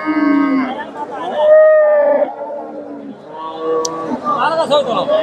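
A Friesian bull at a busy cattle market in Dhap lows in long, loud drawn-out moos, up close, with someone talking and crowd chatter underneath.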